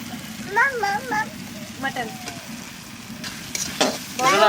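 Onion paste sizzles and spatters in a hot pan while a spoon stirs it for a mutton curry, with birds chirping in the background.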